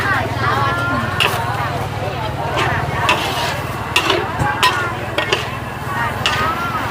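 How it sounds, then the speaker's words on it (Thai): Food is stir-fried again in a hot pan for sale, with continuous sizzling, scraping stirs and clanks from a spatula, close and steady, while voices talk over it. "แล้วผมก็มาผัดซ้ำอีกรอบ"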